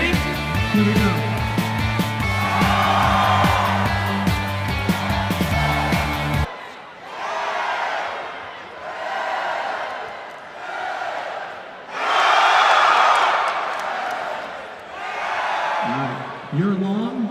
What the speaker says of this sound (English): If I point to the student section, you guys yell.